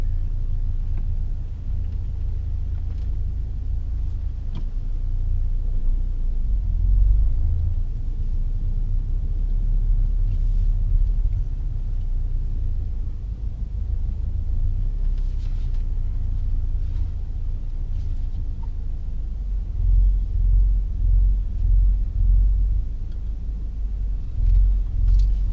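A car pulls forward slowly into a parking bay during a driving test, giving a low steady engine rumble and road noise throughout with slight swells, no speech.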